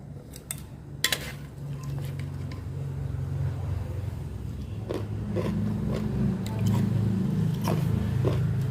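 Crunchy rose apple being bitten and chewed, with a few crisp crunches near the start and scattered softer crunches later over a steady low background hum.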